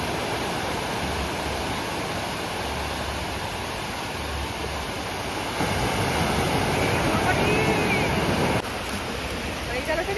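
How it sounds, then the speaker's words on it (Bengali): Evening surf at a sea beach breaks in a steady, broad wash that swells louder for a few seconds midway before easing back, with no clear voices over it. "ওই যে সমুদ্রের আওয়াজ"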